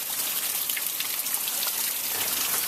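Steady rain pours outside during Hurricane Irene in Bangor, Maine, as a dense, continuous hiss of drops spattering on surfaces, close and unbroken.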